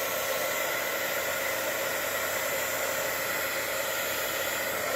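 A heat tool blows over a Christmas card to heat set it, making a steady, even hiss of rushing hot air that holds constant from start to finish.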